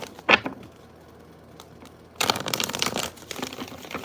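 Tarot cards being shuffled by hand at close range, a crisp riffle burst near the start followed by a longer run of dense papery flutter and clicks, with no talking.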